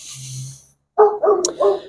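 Dogs bark in a few short, sharp yaps near the end, close and loud, following a brief breathy noise and silence.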